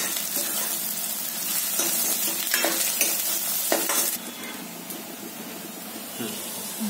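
Dry spices hit softened onion in a hot pan for a dried bombil and potato curry, giving a loud, close, continuous sizzle and hiss broken by stirring scrapes, with no talking.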